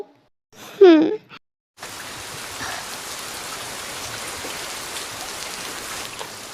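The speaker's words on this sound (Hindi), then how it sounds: "बारिश को अभी आनी थी" A brief vocal sound, then steady rain begins, a dense continuous hiss of drops falling nearby.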